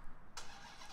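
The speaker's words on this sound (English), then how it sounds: "it's just so satisfying to hear this car start up" A Dodge Charger SRT Hellcat Redeye fires up by remote start, the supercharged engine catching with a sudden loud burst that settles into a steady rumble.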